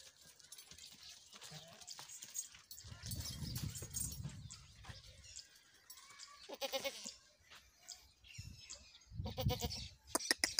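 Goats bleat repeatedly at close range in a farm setting where breeding goats are being shown, with several loud, wavering calls standing out, the strongest near the end, over background noise and occasional faint voices.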